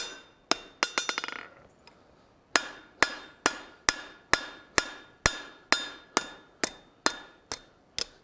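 Forging tongs hammered flat on an anvil: a quick flurry of light ringing taps, a short pause, then a long run of steady, evenly paced clanging blows, close and bright.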